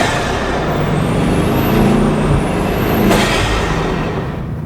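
Bugatti Chiron engine running as a loud, continuous broadband roar, swelling slightly in the middle and near the end, with a faint high whine rising and falling above it and no voices.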